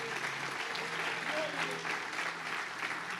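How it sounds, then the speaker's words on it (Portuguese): Congregation at a Portuguese-language family church service clapping together: sustained, even applause from a large crowd, with faint voices mixed in underneath. "Vamos aplaudir o Senhor"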